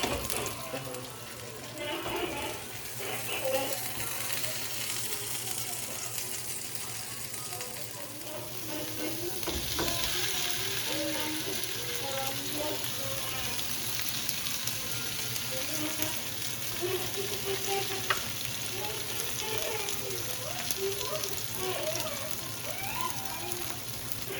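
Birria quesataco, a cheese-filled tortilla, frying in a pan gives a steady, close sizzle that runs evenly throughout, with faint clinks near the start and no voices.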